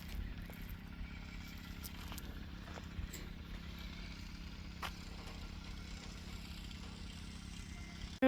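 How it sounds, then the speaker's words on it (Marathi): A tractor in a field runs steadily as it sprays pesticide, a low, even engine drone with light rattling throughout, heard from a moderate distance. "आणि काही ठिकाणी ना अशा पद्धतीने मारतात बघा ट्रॅक्टरच्या साह्याने."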